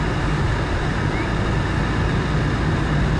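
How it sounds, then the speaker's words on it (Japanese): A Honda Fit Hybrid cruising at 40 km/h, heard from inside as a steady, hushed road and cabin rumble with broadband noise and no distinct engine note throughout. "今時速40キロで走ってますが、すごい静かですね。"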